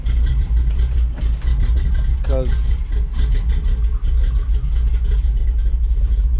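A low, steady engine idle rumbles throughout, rough and close, with someone speaking briefly over it. The engine is an old Chevrolet C10 pickup truck, cold and idling too low, with the choke not hooked up.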